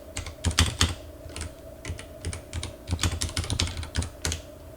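Rapid irregular keystrokes of someone typing code on a computer keyboard, clicking in close, steady bursts with short pauses, no voices.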